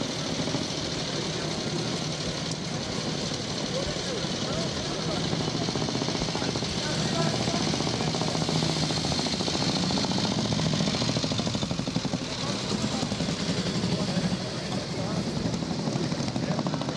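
A vintage Vincent HRD motorcycle engine runs with a dense, steady, knocking rumble, fairly loud and continuous at a club run start, with people talking faintly beneath.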